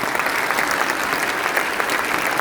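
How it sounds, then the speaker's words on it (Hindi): Audience applause fills a hall at a Glaze Trading India company gathering, a dense, steady wash of many hands clapping at an even loudness throughout, with no voices on top. "जोरदार ताली होनी चाहिए"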